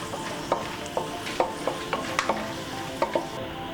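Food fries in ghee in a pan while a spoon scrapes and stirs in a steady series of soft knocks, over a quiet, even sizzle.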